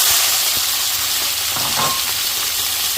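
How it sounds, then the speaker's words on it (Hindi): Peas hit hot oil with cumin in a pan, giving a loud, steady sizzle and hiss with light stirring clatter close by. "साथ के साथ ही डाल रही हूँ मटर"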